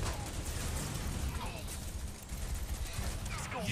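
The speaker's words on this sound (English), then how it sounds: "And there's the artillery." Artillery in the C&C Rivals game fires in a rapid series of booming shots and mechanical clatter, dense and layered, continuing in bursts under a busy battle soundscape.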